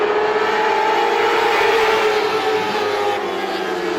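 Classic Lites race cars roar around the Star Speedway oval at a green-flag restart, a dense, loud, continuous engine drone that swells slightly and then eases near the end, with no voices.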